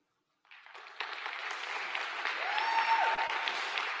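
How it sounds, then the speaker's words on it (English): An audience applauds the finalists at a national young women's scholarship competition finale, the clapping starting after a moment of silence and then swelling into steady, full applause from a large crowd. "Let's give our finalists another round of applause."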